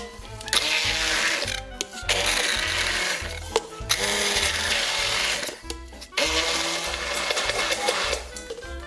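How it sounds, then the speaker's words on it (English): A kitchen blender blitzes avocado chocolate mousse until smooth, whirring loudly in several bursts separated by short pauses as the motor is stopped and restarted. "just blitz this up until it is really smooth and creamy"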